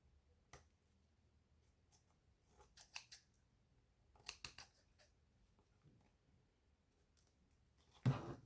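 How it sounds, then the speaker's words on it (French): Scissors snip away leftover ribbon during a decorating project, a few faint quiet cuts in small clusters, then a louder crisp snip at the end, near and otherwise quiet. "on va couper le surplus du ruban"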